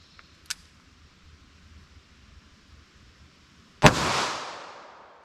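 A 2-inch .38 Special snub revolver fires Sellier & Bellot 158-grain lead round nose ammunition. A small sharp crack comes first, followed later by one loud, close shot whose echo rings out and fades.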